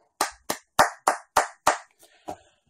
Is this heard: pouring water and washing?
no